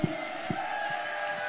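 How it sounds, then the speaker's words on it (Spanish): A church congregation at a 2018 apostolic and prophetic congress applauds and cheers, a dense, steady roar of clapping and voices with a few low thumps near the start. "¡Fuerte ese aplauso!"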